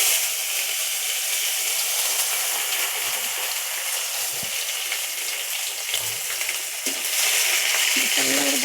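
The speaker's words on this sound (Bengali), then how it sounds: "কাজু আর কিশমিশটাকে ভেজে নেব।" Cashews and raisins sizzle and crackle continuously in hot oil with a bay leaf and whole spices, a loud, dense frying hiss close by, with a few stirring knocks near the end.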